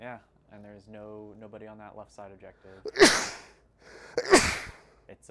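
Two sharp sneezes burst out close to the microphone, a few seconds apart, following a stretch of casual talk during a Warhammer 40k tabletop game.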